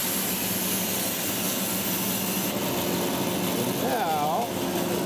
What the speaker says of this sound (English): get the bandsaw up to speed, and I'm going to make a cross cut using the miter